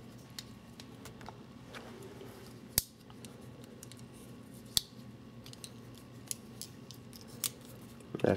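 A Marbles Game Getter folding bowie knife is handled and folded, giving quiet small metallic clicks and ticks with a few sharper snaps spread across the stretch, against a faint background.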